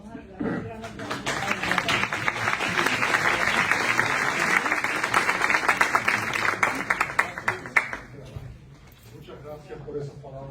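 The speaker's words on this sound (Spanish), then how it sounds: "Vamos a dar un gran aplauso." Loud, sustained applause from a large audience at a tribute event honoring Carlos Alberto Montaner, filling the room for about eight seconds before fading, with voices mixed in underneath.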